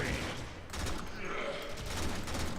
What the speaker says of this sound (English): I can live with a burst action rifle